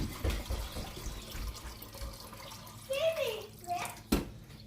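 Cold tap water runs and splashes into a bowl of rice being rinsed for a vegetable curry, a soft, fairly close gurgling stream with a few louder sloshes and a short knock near the end.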